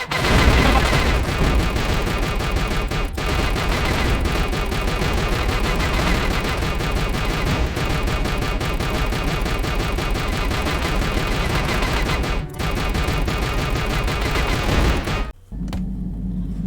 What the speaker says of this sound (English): Someone needs to get on those gun turrets. Take those fighters out before they report our position to the main fleet.